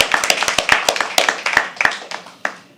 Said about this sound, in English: Can you please have a round of applause for him?